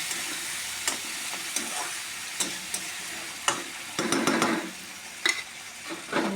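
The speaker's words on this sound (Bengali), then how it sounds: "টমেটোটা একটুখানি গলে ভাজা ভাজা হোক" Tomatoes frying in a pan for a lentil-fritter curry, with a steady soft sizzle broken by scattered sharp crackles and stirring scrapes, close and moderately quiet, with no talking.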